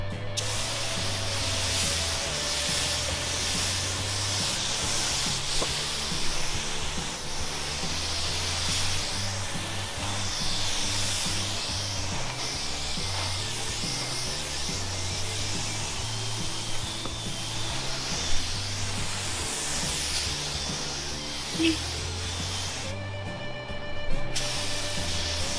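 A spray gun lays primer coats onto a truck bed in a steady hissing spray with brief pauses between passes, fairly quiet and continuous with no talk.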